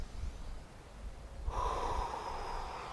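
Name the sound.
loud breathing during yoga exercise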